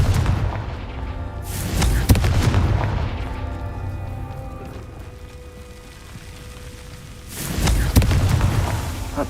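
Confringo blasting curse explosions in the video game Hogwarts Legacy: a loud booming blast opens, a second hits around two seconds in, then a long rumbling decay before another heavy explosion near the end.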